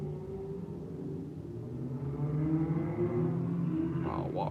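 Loud engines rumble and drone steadily, rising as cars pull away, with a higher whine sweeping up near the end.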